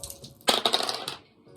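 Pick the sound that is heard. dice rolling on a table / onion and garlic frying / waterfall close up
dice rolling on a table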